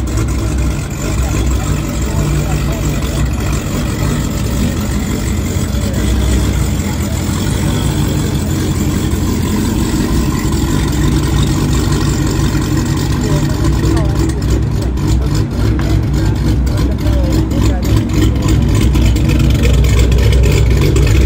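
Cars gathered at a car meet, engines idling in a steady low rumble with occasional rises toward revving, continuous throughout and heard under voices.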